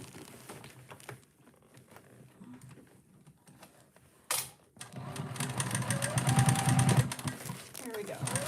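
A sewing machine stitches a fabric heart bag, starting with scattered clicks and handling noises, then settling into a steady rapid mechanical whir over the last few seconds, with faint talk nearby.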